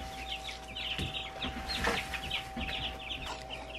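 Young Cornish Cross meat-bird chicks clucking and chirping close by, a busy run of short overlapping calls with a couple of louder squawks, and no talking.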